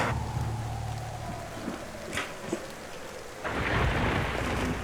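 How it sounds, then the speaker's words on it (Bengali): A thunderstorm with a low rumble early on, then steady rain that grows heavier and louder toward the end. "স্যার বাইরে কিন্তু ঝড় বৃষ্টি হচ্ছে।"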